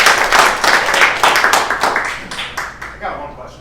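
An audience at a political event claps in brief, loud bursts, a fairly small crowd whose individual claps stand out and thin out toward the end.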